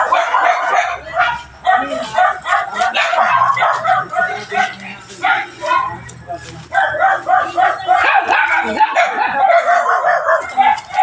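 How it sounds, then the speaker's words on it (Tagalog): Many dogs bark, yip and whimper in an excited chorus around a pig owner's rural property. People talk over the barking the whole time. "Ang daming aso."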